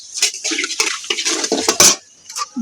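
A spoon scrapes and clatters against a cooking pot as Kashmiri chili powder and spices are stirred, a close series of quick metallic knocks and scrapes with a short pause near the end.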